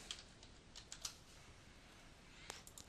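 Fingers tap a computer keyboard in short, soft bursts of clicks, close but faint in a quiet room, with no talk.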